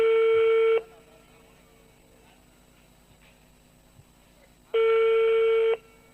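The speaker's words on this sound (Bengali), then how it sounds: "ফোন বাজে নাকি দেখেন।" Telephone ringing tones at a cottage industry trade fair in Gazipur, two loud sustained electronic rings about four seconds apart with a quiet pause between.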